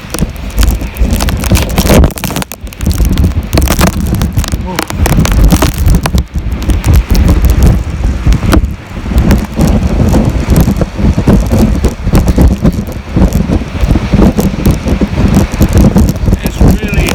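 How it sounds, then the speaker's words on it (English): Strong storm wind buffeting the microphone on the Arbroath cliffs in Scotland, a loud, continuous roaring rumble with gusty surges throughout, with a voice speaking briefly under it. "It's really, really windy up here."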